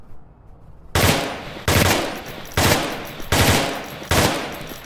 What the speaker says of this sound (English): you can bring it up to your face and fire like you would on a normal weapon